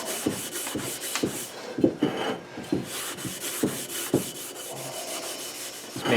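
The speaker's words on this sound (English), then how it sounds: "use the Scotch-Brite pad and go over the whole rotor" Abrasive Scotch-Brite pad scrubbed back and forth over a steel brake rotor being cleaned of Evaporust residue, a steady close raspy rubbing with rhythmic strokes about every half second.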